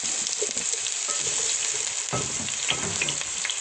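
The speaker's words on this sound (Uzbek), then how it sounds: "Endi bunga parrak qilib to'g'ralgan piyozni solamiz" A steady, crackling sizzle of chopped onions frying in hot oil, with occasional stirring scrapes, close and continuous with no talking.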